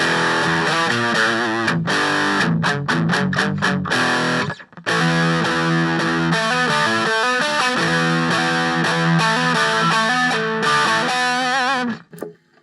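An electric guitar plays heavy metal riffs through a cheap amp with the gain turned all the way up, giving loud, fuzzy, saturated chugging and palm-muted chords with brief stops between phrases before the notes cut off at the end.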